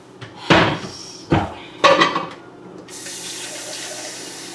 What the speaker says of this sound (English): So I'm just going to add some water to this.